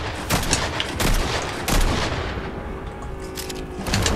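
Gunfire in Fortnite, several loud sharp shots and short bursts spaced apart, close by, over a noisy battle background with a quieter stretch before more shots near the end.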